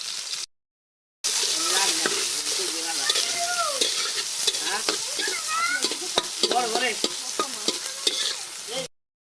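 Onions and chilies sizzling in oil in a wok, a steady close crackle with scraping stir strokes; someone talks over the cooking, after a short silent gap at the start.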